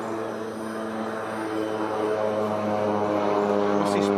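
Crop-spraying airplane passing low over a cornfield, a steady droning propeller engine with a tonal hum that grows slightly louder as it approaches, with no clear speech.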